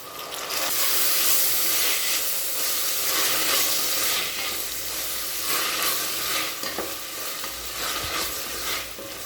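Half a cup of sweet corn sizzles and hisses in a hot pan for pulao, a loud continuous frying crackle with occasional stirring scrapes and no talking.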